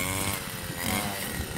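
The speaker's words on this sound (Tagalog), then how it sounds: "grass cutter na talaga yung ginagamit pang tabas sa mga pilapil" Grass cutter trimming grass on rice paddy dikes, a buzzing small engine whine that drones steadily at moderate distance, slightly wavering in pitch.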